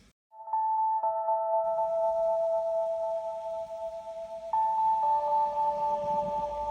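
Piano preset in Logic Pro X with reverb, panned to the right, plays sustained bell-like tones for a lofi track, a steady held chord that shifts partway through, alone with no talking.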